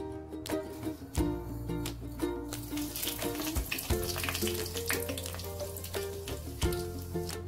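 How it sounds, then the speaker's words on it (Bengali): Dried red chillies and nigella seeds crackle and sizzle as they hit hot oil for a Bengali tempering, a steady close frying hiss with sharp pops and spatters scattered throughout. "তেল গরম হয়ে গেছে, এখন আমি শুকনো লঙ্কা আর কালো জিরা ফোড়নে দিয়ে দেব।"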